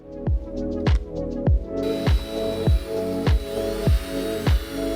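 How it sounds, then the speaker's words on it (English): A small drill bit grinding through metal on a Mustang GT in a series of short bursts, about nine evenly spaced pulses, close and fairly loud over a steady motor whine. "I'm gonna start drilling through here."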